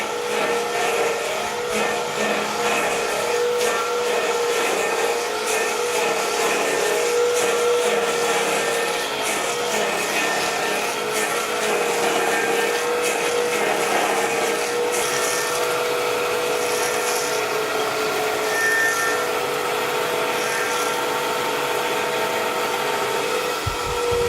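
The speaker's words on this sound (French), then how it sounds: "C'est un tour à copier de 1930." A 1930 copying lathe carves wood with a loud, steady mechanical whir and grinding that runs without a break, no voices over it.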